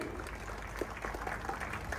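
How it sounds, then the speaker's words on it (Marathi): A crowd applauds for the wrestler Sadgir at an outdoor wrestling match in Kedgaon, Ahilyanagar, with a steady, fairly faint patter of clapping over a low rumble of background noise. "टाळ्या करा त्या सदगीर पैलवांसाठी"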